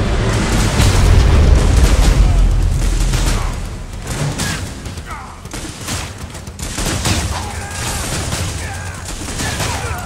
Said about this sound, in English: Nuclear warhead launched.